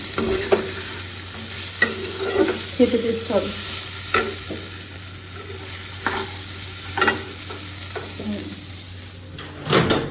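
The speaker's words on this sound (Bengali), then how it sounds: "এর মধ্যে ভাত দিয়ে দেবো একবারে, সব কিছু কিছু নাড়াচাড়া করে দেবো।" Cooked rice with egg and potato is stirred and fried in a pan, giving a steady sizzle broken by repeated scraping strokes of the spatula, with a brief spoken remark over the cooking.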